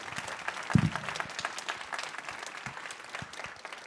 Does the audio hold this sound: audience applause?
yes